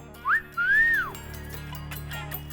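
A man gives a two-note flirtatious wolf whistle at a girl near a water stall, a short rising chirp followed by a longer arching whistle, clear and close over a low background hum.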